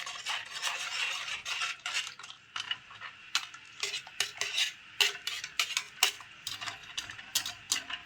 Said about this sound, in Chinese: 搅一搅